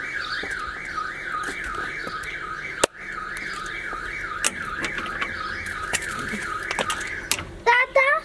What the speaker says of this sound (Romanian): S-a oprit și alarma.